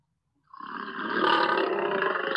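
A cartoon lion lets out a single loud, sustained roar with a rough, growling edge. It starts abruptly after half a second of silence and holds steady to the end.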